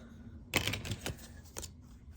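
Scissors slicing through plastic credit cards, several quick close snips and crunches in a short burst, then a couple of softer cuts trailing off.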